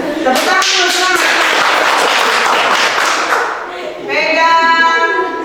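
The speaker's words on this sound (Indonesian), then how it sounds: "Tepuk tangan dulu," Students in a vocational high school classroom clap their hands in a loud, dense burst of rapid applause, which drops briefly and resumes near the end while a voice speaks over it.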